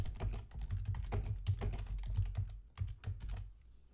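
Rapid keystrokes on a computer keyboard while a chatbot reply message is typed, an irregular run of close, crisp clicks with short pauses and no talking.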